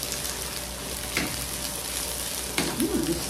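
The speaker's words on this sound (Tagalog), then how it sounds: "So, ito po sibuyas, maraming sibuyas. Yan po ang lalantahin natin mabuti." Plenty of onions sautéing in a pan for beef mask Bicol Express, a steady close sizzle with occasional stirring scrapes, and a faint voice near the end.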